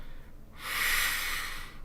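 Voice imitating a house breathing like wind, a single soft, breathy whoosh that swells and fades over about a second.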